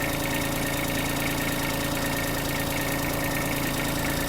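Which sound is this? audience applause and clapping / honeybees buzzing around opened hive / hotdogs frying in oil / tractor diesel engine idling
tractor diesel engine idling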